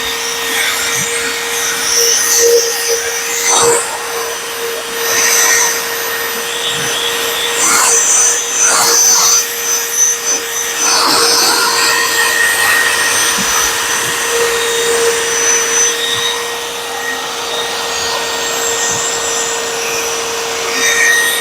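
A drill whirs steadily for a long stretch, loud and close, its constant high whine broken by rubbing, scuffing surges as a 10,000-grit pad polishes a surface.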